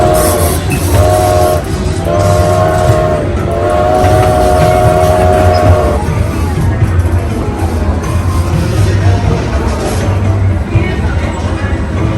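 A loud bob train ride rumbles steadily along with rhythmic rail clatter, a horn sounding in long blasts early on.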